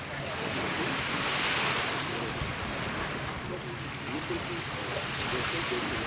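Surf breaking steadily on Long Beach, a five-mile stretch of sand on the west side of Phu Quoc Island, Vietnam, with a continuous broad wash of waves and some wind rumble, no voices.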